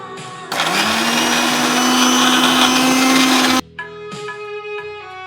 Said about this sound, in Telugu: ఇప్పుడు మనం ఫ్రై చేసి పెట్టుకున్న గోంగూర కరివేపాకు కూడా గ్రైండ్ చేసుకుందాం.